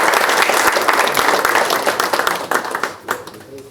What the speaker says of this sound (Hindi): हमारे बुल्लू कुमार भैया के लिए एक बार जोरदार तालियां।